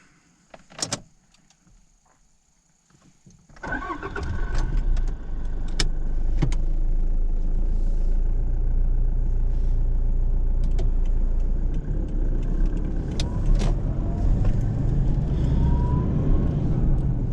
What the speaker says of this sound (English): There is only a 4-cylinder turbocharged diesel engine. So let's start.